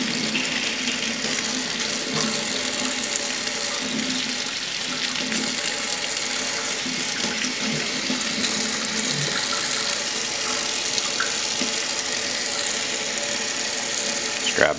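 Warm tap water runs steadily into a sink as a Stardust CE5 clearomizer is rinsed, a loud, close, continuous splashing stream with no talk.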